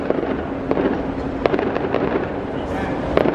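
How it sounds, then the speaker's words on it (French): Fireworks going off in the middle of the city in Monaco, heard as a series of sharp cracks and pops at irregular intervals, moderately distant, over a constant urban background hum with talk nearby. "il y a un feu d'artifice qui a lieu là-bas"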